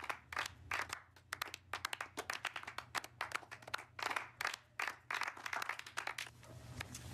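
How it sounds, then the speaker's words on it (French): Scattered clapping from a seated audience at the César Anonyme segment of the César awards ceremony in France, individual hand claps audible rather than a dense roar, steady for several seconds over a low hum. "Applaudissez-vous, allez."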